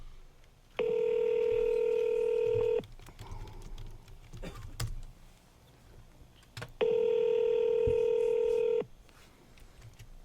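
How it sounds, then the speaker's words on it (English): Two separate bursts of telephone dialing tones, each about two seconds of steady electronic beeping, sound close and clear. Quiet background noise fills the gap between them, and no one speaks. "Let's see if we can get Vlad on the phone"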